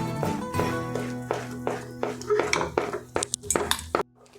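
Spoon scraping and clinking against a pan as milk and mung dal halwa is stirred, a series of rhythmic metallic scrapes and taps close by, with no talk over it.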